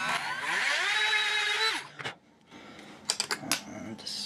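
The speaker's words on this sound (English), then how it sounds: "Back to the Dremel and deepen that." A Dremel rotary tool deepens a cut in a figure being modified for extra articulation. It whines steadily and close for almost two seconds, then winds down, followed by a few sharp clicks and handling knocks.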